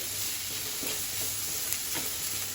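Chopped garlic cloves and ginger fry over medium flame in a pan, a steady soft sizzle with a few light scraping stirs, close and fairly quiet with no talking.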